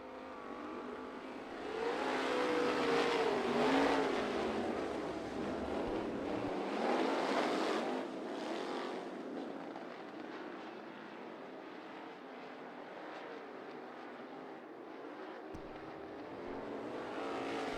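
Sprint race cars roar around Bubba Raceway Park, a loud sustained engine drone that swells as the pack passes near, then settles into a steady distant rumble.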